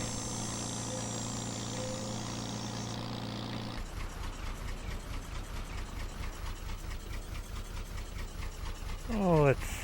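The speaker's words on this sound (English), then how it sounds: "A handy little tractor." A small 1955-era tractor engine in the Farming Simulator 22 game idles steadily, first as a smooth low hum, then as a rhythmic chugging throb, with a brief rising sweep near the end.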